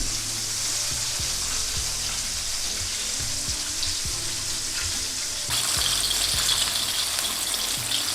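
Crispy chicken burger patties frying in hot oil, a dense, continuous crackling sizzle that stays close and loud, with low popping bubbles and a brighter surge of spitting toward the end.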